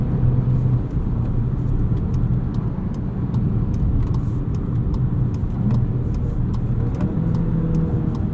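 Inside a 2022 Volkswagen Jetta GLI with a 6-speed manual, a steady low engine drone and road rumble fill the cabin at a constant, loud level with little change in pitch.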